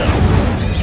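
Incendio fire spell being cast in the video game Hogwarts Legacy: a short, loud, fiery crash and burst that fills the whole moment with rough noise.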